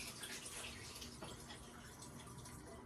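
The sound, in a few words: draining water from a pot of potatoes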